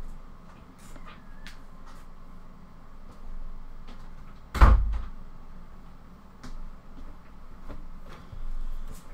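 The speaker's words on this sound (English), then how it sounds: "Let me get the door quick" A door opens with a single sharp, loud knock-like thump at the midpoint, followed by quieter shuffling and faint room noise in an otherwise calm indoor space.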